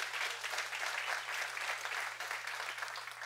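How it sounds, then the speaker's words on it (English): A church congregation claps together in steady, dense applause that holds evenly for a few seconds, moderately near and fairly soft, with no voices over it. "Give Him a big hand clap."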